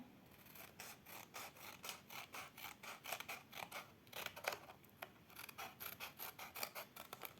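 Scissors snip through paper for a children's appliqué of a gymnastics ladder, cutting out long strips in a steady run of close, crisp, rhythmic cuts with no talking.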